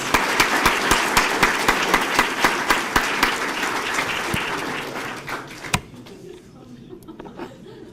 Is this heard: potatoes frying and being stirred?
no